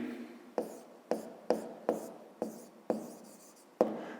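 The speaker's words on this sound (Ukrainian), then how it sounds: "Отже, записуємо." A pen writes by hand on squared paper while working a fifth-grade geometry exercise, with about seven sharp, regularly spaced strokes that each start with a tap and fade into a short scratch. The sound is close and clear, with no talking.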